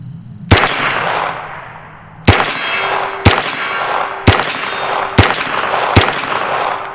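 Gunshots from a CZ Scorpion Evo 3 striking a steel gong at a range: six sharp loud reports spaced about a second apart, each followed by a ringing metallic clang that lingers between shots.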